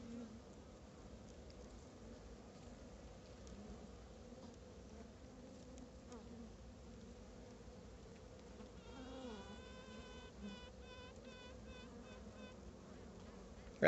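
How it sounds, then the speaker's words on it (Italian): Queen honeybee piping inside a hive by rubbing its wings, a faint buzzing drone of bees with a series of short tooting pulses rising near the end. "si sta facendo conoscere alle sue api e fa questo rumore strofinando le ali e si dice che canta."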